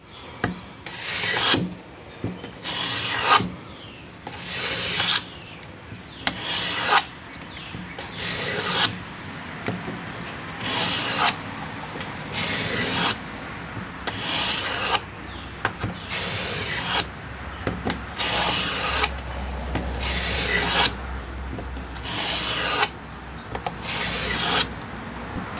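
Repeated rasping strokes of a knife drawn across the stone of a Work Sharp guided field sharpener, steady rhythmic passes, close and fairly loud, with no talking.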